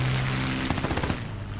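Aircraft guns rattle in a War Thunder air battle, a quick burst of about ten closely spaced shots fired against a steady roar of engine and wind, fairly loud and close.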